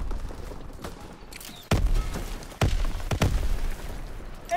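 Battlefield gunfire in the WWII shooter video game Call of Duty: WWII, with several sharp loud shots and bursts over a dense background of distant firing and rumble.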